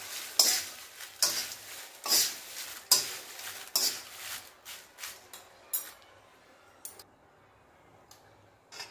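Bay leaves roasting in a dry pan, flipped with two spoons, giving a series of sharp, close scraping clicks and rattles at a quick irregular pace that thin out and fade toward the end.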